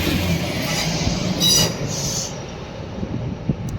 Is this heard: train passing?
yes